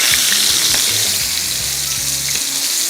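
Fish frying in oil in a non-stick pan gives off a steady, loud, close sizzle that crackles evenly throughout, with low clinks and stirring noises beneath it.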